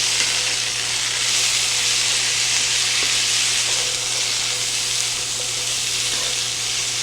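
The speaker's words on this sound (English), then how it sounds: "I'm going to stir these until they're well combined with the seasoning and the butter and the oil" Potatoes sizzle loudly in butter and oil in a skillet as they are stirred, a constant close frying hiss with occasional soft scrapes and taps, and no voices.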